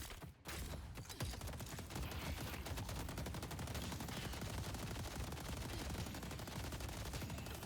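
Rapid continuous gunfire from McGinnis's spirit turret in the Deadlock video game, a dense stream of sharp shots rattling on without pause after a brief gap at the start, with no talk.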